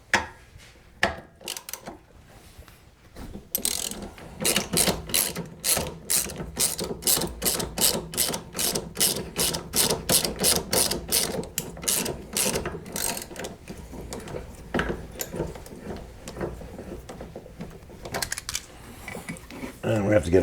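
A hand ratchet clicks rapidly and steadily while loosening a sway bar link on a Pontiac GXP during a coilover install, close and loud in a garage, continuing in a long even run of sharp ticks.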